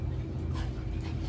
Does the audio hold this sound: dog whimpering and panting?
yes